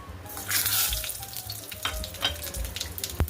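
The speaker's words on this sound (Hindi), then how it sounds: "जीरा, हींग और मोटी लाल मिर्च, इसको हम इसमें डाल देंगे" Cumin, asafoetida and whole red chillies hit hot oil in a pan for a Rajasthani sev tomato curry, giving a loud burst of crackling sizzle that settles into a steady fry with a few stirring taps.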